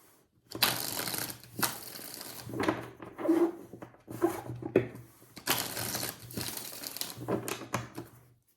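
Tarot cards being shuffled in repeated bursts of crisp riffling and flicking, close and clear, with brief quiet pauses between shuffles.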